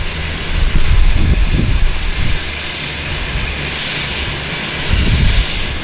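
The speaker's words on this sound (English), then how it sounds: "Textbook landing." A Harbour Air Twin Otter floatplane landing in a downtown harbour, its engines a steady loud roar that swells and fades as the plane comes down, heard alone with no talk.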